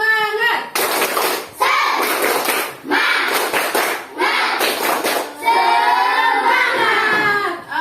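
An elementary school class of fifth graders does a rhythmic 'tepuk semangat' clapping routine in the classroom: bursts of sharp, loud hand claps in patterned groups, separated by short pauses, with children's voices chanting along.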